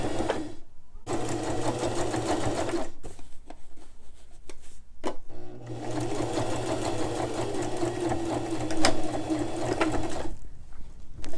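Sewing machine back-stitching a side seam on a man's dress shirt, close and clear in two runs of rapid rhythmic stitching separated by a short pause with a faint click.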